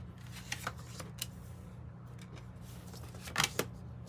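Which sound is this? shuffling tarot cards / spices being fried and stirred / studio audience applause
shuffling tarot cards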